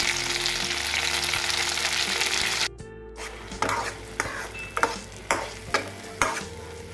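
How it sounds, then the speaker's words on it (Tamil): Garlic and tomatoes fry in hot oil in a pan with a steady sizzle, broken by a brief pause and then a run of spatula stirs and scrapes. "பூண்டு ஃப்ரை ஆனதுக்கப்புறம் நல்லா கொஞ்சம் லைட்டாக கலர் சேஞ்ச் ரெண்டு தக்காளி போட்டுக்கிறோம்"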